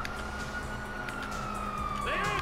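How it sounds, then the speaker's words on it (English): A steady video game police siren wails in the background under ongoing noise, with a voice briefly breaking in near the end. "You hear that? Sirens!"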